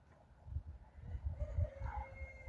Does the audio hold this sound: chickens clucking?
yes